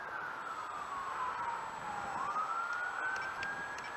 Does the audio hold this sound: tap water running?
no